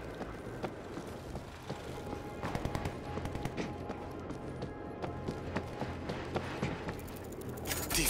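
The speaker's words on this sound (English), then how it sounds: "I got an auto turret running" Auto turret firing during a World War Z: Aftermath zombie fight, a dense rapid rattle of gunfire among other game chaos, building louder toward the end.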